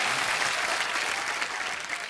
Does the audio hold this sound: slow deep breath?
no